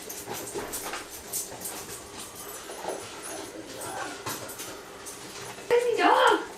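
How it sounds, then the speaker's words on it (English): An excited dog pants and snuffles under people's talk, then gives a sharp, high, wavering whimper near the end. "Busy dog! She can't get hold of that to bring it to you. She's just too excited."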